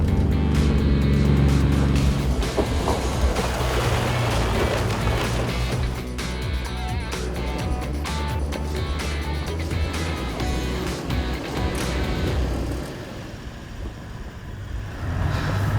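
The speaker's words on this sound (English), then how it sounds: "Just taking it out of low first and putting it in low second, a little bit more momentum." A 16-year-old Toyota Land Cruiser 100 series grinds up a steep hill in low range, its engine droning loudly and steadily with rumbling drivetrain noise and some clatter, easing slightly toward the end.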